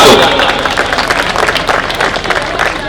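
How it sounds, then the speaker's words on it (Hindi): Loud, dense applause from an audience at a Hindi poetry recital, many hands clapping steadily from start to finish with faint crowd murmur underneath. "सच्ची तालियां बजा दो"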